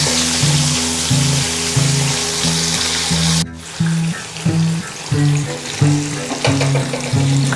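Fish pieces frying in hot oil, a loud close hiss and crackle over a rhythmic low humming drone, with a sudden burst as pieces drop in and spattering afterward.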